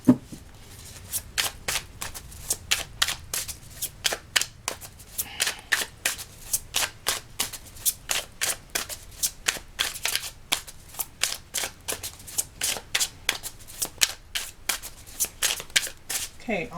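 A deck of tarot cards being shuffled by hand, a long run of quick crisp riffling snaps in close, steady bursts, heard alone with no talking.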